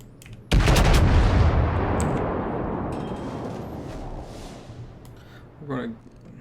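Warship gunfire from a Cleveland cruiser in the naval video game World of Warships: one heavy, booming salvo bursts out at full loudness and rolls away into a long fading rumble, with a voice faintly audible near the end.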